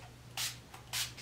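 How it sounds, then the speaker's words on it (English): Photo Focus Rose 3-in-1 primer spritzed from a mist bottle, two short close hissing sprays about half a second apart over a faint hum. "I'm going to take the Photo Focus Rose 3-in-1 primer and spray that a couple of times on my"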